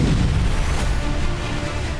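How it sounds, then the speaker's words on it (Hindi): A heavy Russian missile strike explodes near a police station in Kryvyi Rih, among residential buildings and a market, as a sustained, loud, rumbling roar with no voices. "तभी एक जोरदार धमाका हुआ और आग का"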